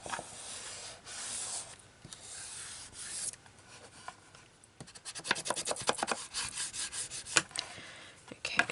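Folded paper signatures for a handmade journal pressed down gently and rubbed along the spine, giving close, dry scratchy rubbing strokes in uneven bursts, busier and more crackly toward the end, with no talking.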